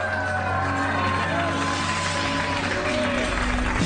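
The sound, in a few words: audience booing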